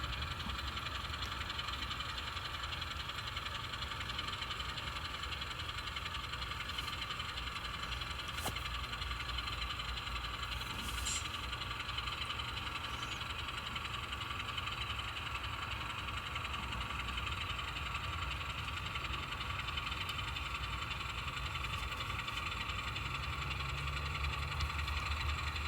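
An old Alco diesel locomotive idles with a steady low engine drone and faint mechanical knocking, continuous and unchanging throughout, heard at moderate distance with no talk.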